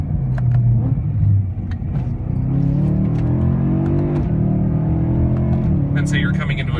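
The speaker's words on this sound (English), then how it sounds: "I'll give you some of the rev match downshifting" 2009 BMW M3 DCT with a Remus exhaust, its engine droning and rising through rev-matched downshifts from inside the cabin, with someone talking over it.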